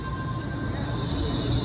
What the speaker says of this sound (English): Watch this beautiful, luscious Bombardier Flex locomotive drive in.